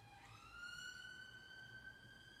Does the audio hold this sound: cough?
no